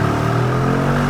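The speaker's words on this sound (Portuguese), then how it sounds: "quando você tá assim parado e você dá uma acelerada na G" Mercedes G63 Brabus engine revving as it accelerates from a standstill, a loud, steady, close mechanical drone with a low rumble, heard alone.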